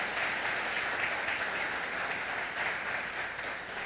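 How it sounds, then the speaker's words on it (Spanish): Congregation applauding during a church service: steady, dense clapping fills the whole stretch at moderate loudness, with no talk over it. "Den un aplauso al Señor."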